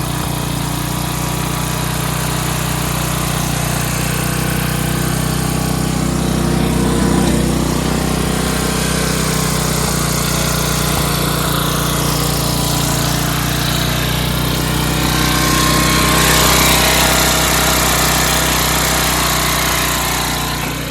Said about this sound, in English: Yeah, riding around another free tractor.